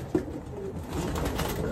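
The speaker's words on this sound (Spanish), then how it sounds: "Muy bonita la palomita." A racing pigeon at a pigeon derby gives a short, soft, low coo near the start, followed by steady background noise, with no talk.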